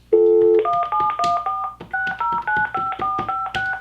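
A landline telephone plays a long dial tone, then a quick run of touch-tone keypresses beeps in steady rhythm, close and clear with no talking.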